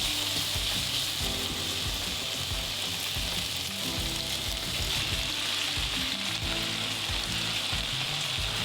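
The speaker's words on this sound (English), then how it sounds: "it's time for us to put in the peppers, and it's time to put the onions in, and we're just going to cook them down into a nice saucy mix" Peppers and onions for fajitas cook down in a hot pan, making a loud, continuous sizzle with fine crackling and occasional low scraping from stirring, steady from start to finish with no speech.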